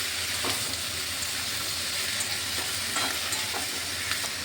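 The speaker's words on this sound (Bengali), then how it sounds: "এখন ভালোভাবে এটাকে একটু মিশিয়ে নিচ্ছি।" Potatoes fried in a pan with salt and turmeric sizzle steadily while being stirred, with soft scraping strokes recurring through the continuous, close frying hiss.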